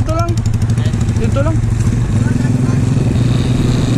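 A TMX 155 motorcycle engine revs hard and climbs through gears in a friendly drag race, loud and close, with a Smash 115 droning alongside and people talking.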